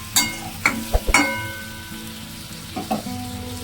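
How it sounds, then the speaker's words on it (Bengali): Pieces of coriander chicken are stirred in a pan with a little added water. Close, loud scrapes and clacks of the spatula come in a few bursts over a steady frying sizzle, and no one speaks. "ভালো করে নাড়াচাড়া করে নেব।"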